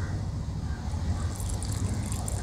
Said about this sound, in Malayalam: നമുക്ക് ഇതിലേക്ക് കുറച്ച് വെള്ളം ഒഴിച്ചെടുക്കാം.